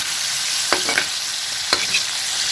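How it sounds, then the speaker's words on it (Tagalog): Steady frying sizzle of liver in a pan fills the clip, with a couple of brief stirring scrapes in the pan; no voices. "Piniprito ko yung atay."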